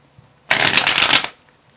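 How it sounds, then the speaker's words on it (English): A deck of tarot cards shuffled in one quick, dense riffle lasting under a second, close and fairly loud, with quiet before and after. "I always shuffle the cards until I am sure that they are ready"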